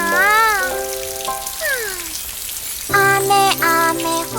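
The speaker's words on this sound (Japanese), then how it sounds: "残念だけど雨が降ってるわ" Steady rain hisses throughout as a broad, even patter, while voices of an adult and someone talk and sing over it.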